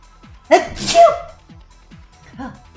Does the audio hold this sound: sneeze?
yes